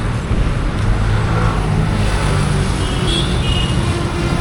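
A bus leaving the Collector Office stop in Nagercoil and heading toward Kaliyakkavilai, its low engine drone and road rumble blending into steady nearby traffic noise, with no talking.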